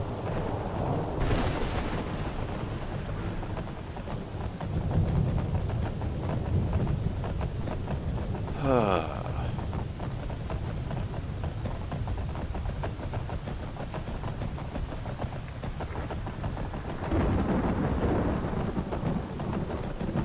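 Horse hooves clopping at a steady riding pace in the video game Skyrim, a continuous trotting rhythm under a constant wash of ambient game noise, with no talking.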